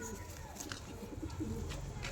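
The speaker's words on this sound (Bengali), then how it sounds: "এটা দু দশকের পায়রা এগুলো হুম দু দশকের পায়রা" Pigeons coo close by in soft, low, repeated phrases over a continuous murmur of background noise.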